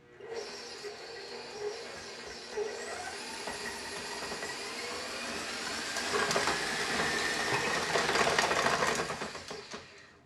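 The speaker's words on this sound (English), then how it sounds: "And I'm using a stand mixer today." A stand mixer beats gluten-free thumbprint cookie dough with sugar, giving a steady motor whine with a rattling churn that swells louder toward the end before winding down. Nearby and continuous, with no speech.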